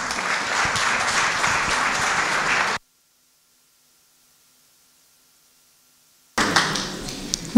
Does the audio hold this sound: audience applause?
yes